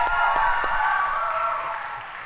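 Audience applause and cheering for a singer on a Vietnamese TV game show, a dense wash of clapping from a near crowd, steady and loud, then slowly fading.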